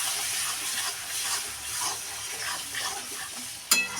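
Prawn heads with turmeric frying in a pan on low gas, stirred with a spoon, a steady hissing sizzle broken by soft scraping strokes and one sharp clink near the end.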